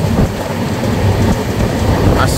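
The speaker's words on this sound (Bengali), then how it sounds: "বৃষ্টি পড়ছে, ভালো বৃষ্টি" Heavy rain drums steadily against a moving Padatik Express train carriage, a loud continuous hiss over the low rumble of the wheels, with no talk.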